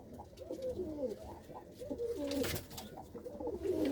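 Pigeons coo repeatedly in soft, throaty phrases, several birds overlapping at close range against a quiet background.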